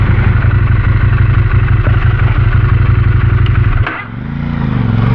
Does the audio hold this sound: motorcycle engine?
yes